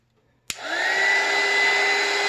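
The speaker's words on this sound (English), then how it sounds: "I'm going to use a heat gun." A heat gun switches on with a sharp click, then a steady, close blowing whoosh with a faint rising whine holds evenly as it heats a thermal fuse, with no voices.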